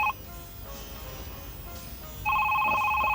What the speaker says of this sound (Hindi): घंटी सुनकर समझ गए कि ये फोन इनका है?